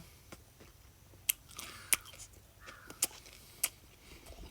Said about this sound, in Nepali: यसरी मजासँग चपाएर